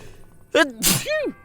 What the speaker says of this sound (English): Oh, I just sneezed on my own hands.